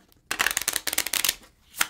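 Playing cards being riffled and shuffled by hand for the Italian horse-racing betting game Corsa Dei Cavalli, a close burst of rapid crisp flutters after a brief pause, ending with a final snap of cards.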